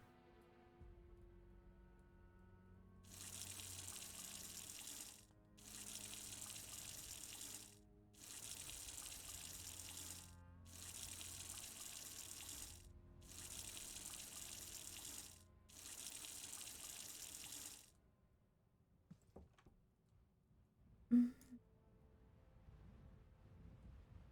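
Water pouring in The Last Farmer video game comes as six evenly spaced bursts of faucet-like gushing, each roughly two seconds long, over faint background music. Then quiet, with a single short knock near the end.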